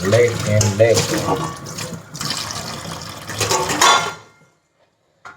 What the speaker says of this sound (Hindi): पहले हम मांज लेते हैं बर्तनों को।